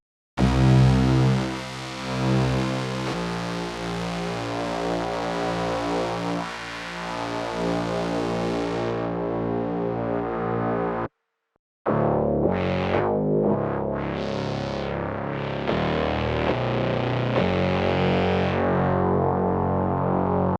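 Drum machine samples run through a Korg MS20 Mini filter produce harsh, distorted synth tones that shift in timbre, with the filter later sweeping up and down in rhythmic, wobbling peaks after a brief silent gap.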